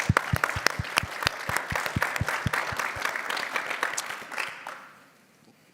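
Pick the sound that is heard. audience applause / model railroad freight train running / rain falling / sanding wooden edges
audience applause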